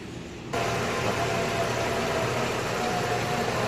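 A Kia Optima engine idles during a warm-up before an oil change, starting with a sudden jump in level and then holding a steady, even hum close by.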